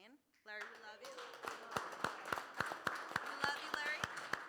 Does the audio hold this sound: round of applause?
yes